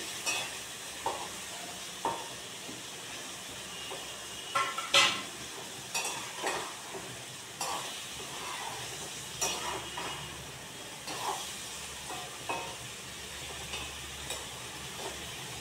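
A fish head dropped into hot oil over fried spices in a Bengali home kitchen, sizzling and crackling steadily with intermittent scrapes and clinks of a spatula against the pan, close and moderately loud, with no voices.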